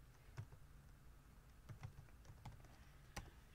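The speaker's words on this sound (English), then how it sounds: "I'm going to type that into the internet." Quiet typing on a computer keyboard, a few sparse irregular key clicks and taps spread over several seconds against a soft room hiss.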